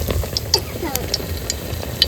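Malpua frying in a pan gives a soft, low hiss, with a few sharp clicks of a utensil scattered through it, close and fairly quiet.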